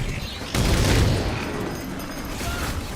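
Machine gun fire in Halo 4 rattles in a dense, sustained burst after a sharp onset, loud and continuous, with game noise around it and a voice speaking over it.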